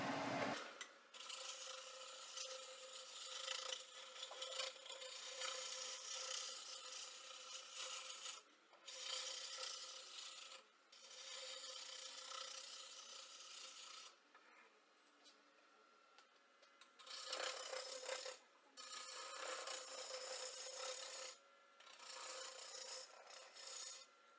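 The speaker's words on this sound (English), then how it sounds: "I use a scraper to kind of smooth it out a little bit" A scraper rasps against a wooden tool handle spinning on a lathe, making loud close scraping bursts that repeatedly stop and start with short pauses between passes.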